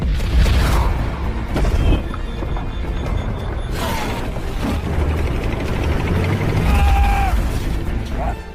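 Heavy booming blasts from a grenade destroying a German Panzer tank in a battle, several deep thuds and rumbling bursts spread across the stretch, mixed with mechanical clanking and engine noise.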